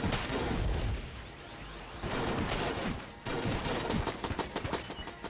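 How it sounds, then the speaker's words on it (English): Void Shotgun blasts in Enter the Gungeon, loud rapid bursts of gunfire with whooshing shots, arriving in dense volleys separated by brief lulls. "So right now I will use Void Shotgun"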